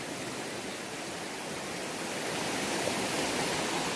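A big, muddy river rushes powerfully, a steady broadband roar with no pauses, close and fairly loud, no voices over it.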